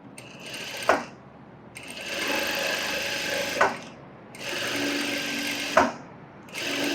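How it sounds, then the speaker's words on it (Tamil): A sewing machine stitches blouse fabric in three long, steady whirring runs of a couple of seconds each, separated by brief pauses with a sharp clunk as each run stops, close and loud with no talking. "நான் இதில் அப்படியே தையல் போடுறேன்"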